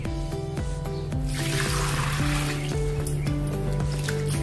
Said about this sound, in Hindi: तो अभी ये पानी फेंक देंगे और से धोएंगे